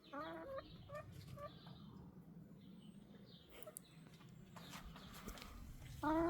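Silkie chickens, a fluffy breed with fur-like plumage, cluck in bursts in a backyard garden, some calls near and others quieter, over steady outdoor background noise with a louder cluck right at the end.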